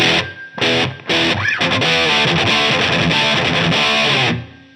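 Loud, heavily distorted electric guitar chords from a Line 6 Helix with room reverb ring out with a roomy tail, starting in short bursts and then sustaining before cutting off.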